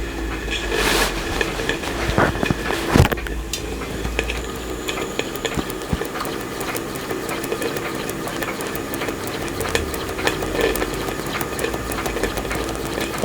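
A Stuart Turner 10H model steam engine runs steadily, giving a continuous hissing, chuffing texture with a few sharper knocks early on, close and fairly loud, with no talking.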